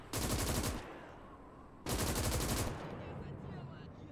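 Two sustained bursts of machine-gun fire in the WWII game Gates of Hell on the Eastern Front, each lasting just under a second with rapid evenly spaced shots, loud and close, separated by a short pause and followed by lingering battlefield rumble.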